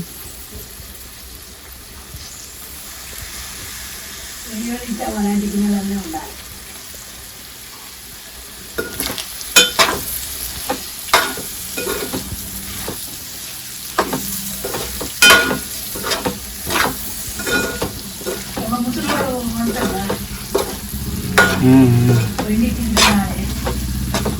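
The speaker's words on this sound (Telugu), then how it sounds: "అయిపోయింది మటన్ ఫ్రై" Mutton fry sizzles in a pan as a spoon stirs it with repeated scraping knocks, the sizzle a constant bed under the clatter, with a few brief voices in between.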